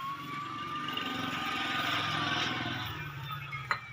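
A 2022 Millat 260 tractor with its engine running, giving a steady, throbbing diesel rumble close by, with one brief sharp knock near the end and no talking.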